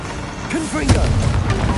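Hogwarts Legacy spell combat on PS5 produces a Confringo blast with whooshing magic tones and a muffled booming impact, followed by a short rumbling tail.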